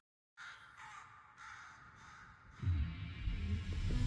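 A crow caws several times in a music video's desert scene, giving four or five harsh, evenly spaced calls that sit close and clear before a low rumbling music bed swells beneath them.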